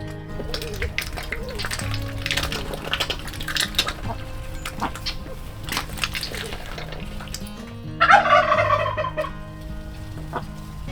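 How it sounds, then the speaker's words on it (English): Birds on a flower farm making a steady run of soft, bubbling calls over about eleven seconds, close and fairly loud, with a brief clinking burst near the end. "You can hear them kind of cooing."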